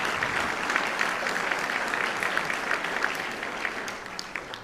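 A high school winter band concert audience claps steadily in sustained applause, a dense patter of many hands that stays even and slowly eases toward the end.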